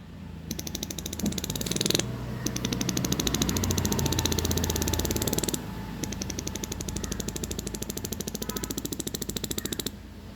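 A voice mimics a motorcycle engine with a rapid, sputtering thump-thump that rises and continues, briefly pausing, then resumes, loud and close.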